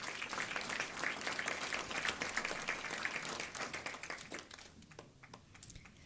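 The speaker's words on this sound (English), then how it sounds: "a big round of applause to our fine arts students" A school board meeting crowd applauds steadily, dense clapping from many hands that gradually thins and fades toward the end.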